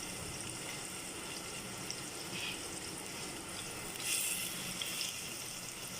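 Onions fry in a pot, giving a steady, close hissing sizzle that runs without a break, with a few brighter crackles near the end and no talking.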